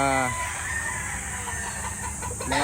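Gamecock roosters, brood cocks and stags, soaked in the rain, crow loudly nearby, one crow at the start and another beginning at the end, with clucking and a voice talking underneath.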